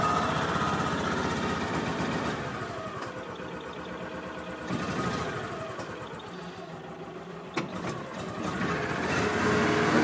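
A choked Kawasaki MULE 610 XC utility vehicle engine idles with a small, busy mechanical putter and a faint clunk near the end, steady and moderately close.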